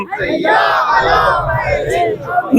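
A crowd at a religious gathering marking a Shaban celebration chants Haidari slogans in unison, loud and close, with rising and falling voiced cries sustained across the whole stretch.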